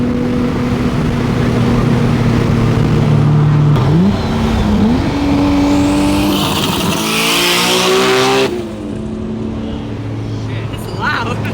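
A loud car engine revving repeatedly, its pitch climbing and dropping in sweeps, with some squealing and people talking over it.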